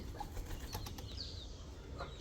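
Pigeons flap their wings over an open field, a few faint, brief flutters against a steady outdoor background.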